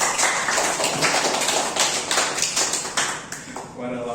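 A classroom of students applauding after a birthday message, a dense, steady patter of many hands clapping close by with a few voices mixed in.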